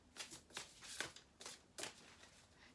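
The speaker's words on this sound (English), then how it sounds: "I'm going to have to shuffle it." Tarot cards being shuffled by hand close up: a series of quiet, crisp riffling bursts, about six of them at irregular intervals, with near silence between.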